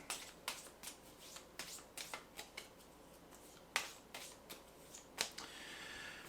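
Board game cards being shuffled by hand in a run of crisp riffling bursts, about a dozen quick ripples at an even rhythm, close and clear with no talk.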